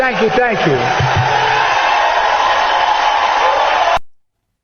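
A crowd cheers and applauds after a political speech closes, a loud, steady roar of voices that holds for about four seconds before cutting off, with a brief voice at the very start.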